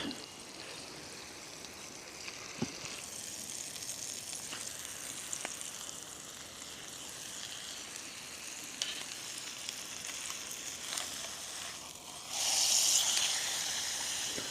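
A big steak fries in a small frying pan over a woodland campfire, giving a soft, steady sizzle with occasional crackles and pops and a brief louder hiss near the end.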